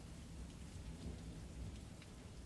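Heavy rain pours steadily through a thunderstorm around a manor, with low rolling rumbles of thunder mixed into the dense, even hiss of rain and no voices.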